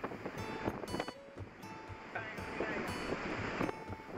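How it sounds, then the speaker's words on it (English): Storm waves crash against the hull of a cargo ship at sea in the South Pacific. The rushing, roaring noise is broad and steady, with wind buffeting and faint speech mixed in. "The relentless waves crashed against the ship's side as if trying to swallow the entire deck"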